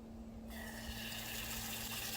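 Water suddenly bursts out of a newly dug well after a brief quiet start, then gushes strongly and steadily with a constant low hum underneath.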